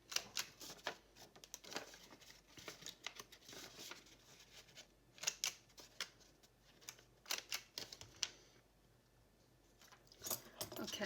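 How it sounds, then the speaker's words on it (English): Repeated sharp clicks and crunches from a hand punch biting along the edges of paper for seasonal journal ephemera, arriving in irregular bursts with brief pauses, close and fairly quiet, no talking. "punch the edges."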